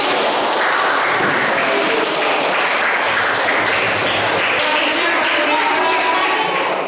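Steady, dense clapping from a classroom group, continuous and fairly loud throughout, with a faint murmur of voices beneath it.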